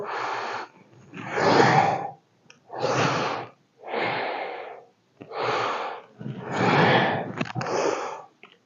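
Heavy, rhythmic breathing during an abdominal fat-reduction exercise, loud close inhales and exhales in about seven long bursts separated by short pauses, with no talking.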